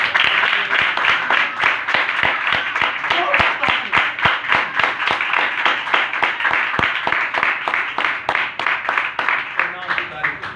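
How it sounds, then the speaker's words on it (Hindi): Loud, steady clapping from a church congregation during a Hindi-language Christian sermon, sharp dense hand claps running the full length at close range. "एक बार जोरदार तालियां।"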